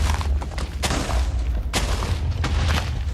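Deep booming explosions in Minecraft, loud repeated blasts with sharp onsets roughly every second or so over a rumbling low-end background.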